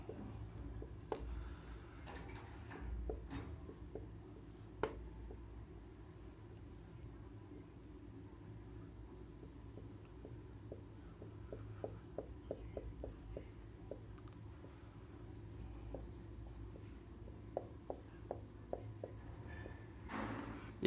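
A pen scratches out the name of benzene diazonium chloride during a chemistry lesson on making chlorobenzene, with faint, irregular strokes and taps over a steady low room rumble.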